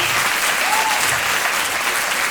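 A comedy show audience breaks into loud, thick applause, with many hands clapping at once in a continuous, unbroken wash close to the microphone.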